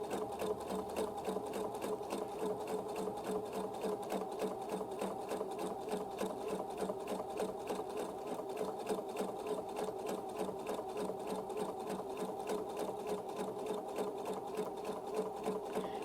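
A sewing machine quilting fabric along a circle ruler runs steadily and closely at moderate speed, its rapid needle stitching forming an even, unbroken mechanical chatter throughout.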